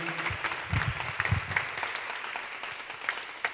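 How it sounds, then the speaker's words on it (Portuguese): Audience applause at a gathering held at Colégio Brasília: a steady, fairly close patter of many hands clapping, with a few sharper individual claps, and no talking. "aplausos aí, Paulinho, família."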